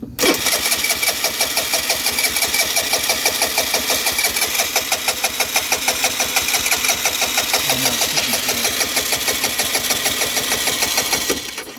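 A Vespa LX150 scooter with a leaking fuel valve and hose starts up and keeps running, its steady rapid engine chatter loud and close without a break for the whole stretch.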